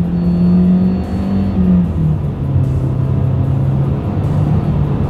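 A 2023 Mitsubishi Eclipse Cross engine pulls steadily under acceleration from inside the cabin, a loud, even drone whose pitch rises and drops slightly as paddle-shifted gears change.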